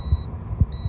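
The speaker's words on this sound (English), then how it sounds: "So if I touch it, it should beep." A continuity tester beeps while probing a wire on a Dodge, Jeep, Chrysler or Ram master window switch. A steady, high electronic tone sounds twice, briefly, with dull low thumps beneath it.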